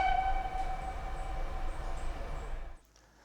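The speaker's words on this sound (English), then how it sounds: "It's just a sharp, high-pitch whistle above the ambience." A sharp, high-pitched train whistle holds a steady tone over low rumbling ambience at a train station, then cuts off abruptly, leaving quieter background.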